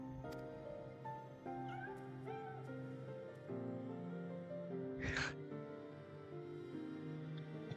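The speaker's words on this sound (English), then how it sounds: "The cats!" Cats meow repeatedly in the video game Final Fantasy XIV, several drawn-out cries over a sustained musical backdrop, with one sharper breathy sound partway through.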